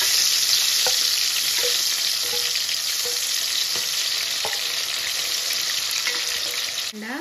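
Potato and dried anchovies fry in hot oil, a dense, loud, continuous sizzle and crackle close by, punctuated by faint periodic clinks of a stirring spoon, with no voices.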